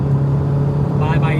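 A 1984 Vauxhall Cavalier engine hums at a steady mid-pitched drone from inside the car, holding an even level throughout with no clear rise or break as the gear changes.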